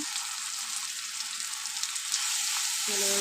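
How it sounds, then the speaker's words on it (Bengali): Chili powder, ginger and turmeric sizzling steadily in hot oil as spices are fried for mutton, a continuous broadband hiss with no talking. "ভালো করে আমি কষিয়ে নেবো"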